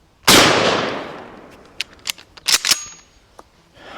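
A Mossberg 590 Retrograde 12 gauge pump shotgun fires a 2 3/4 inch shell in one loud, close blast with a long decaying roar, followed by several sharp mechanical clacks.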